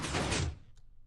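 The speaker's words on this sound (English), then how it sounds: "We open and close the doors." Doors in Minecraft, triggered by a pressure plate, swing open and shut: a brief loud burst of blocky door clatter that cuts off abruptly, followed by a faint short click, no speech.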